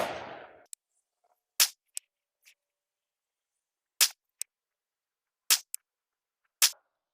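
A PSA Classic AR-style rifle fires AAC 75 grain ammunition outdoors, about five sharp, loud shots at irregular intervals of one to two seconds, each followed by a quick faint echo.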